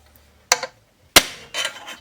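Two sharp metallic strikes of a hammer on a punch set against a screw on a 1976 Bally Flip Flop pinball machine, spaced about half a second apart, followed by a faint clinking rattle.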